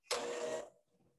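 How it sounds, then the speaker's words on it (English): An electric mixer whirs loudly through cookie dough in a short burst of about half a second, then cuts out, leaving only faint background noise. "use, the electric mixer again for a minute"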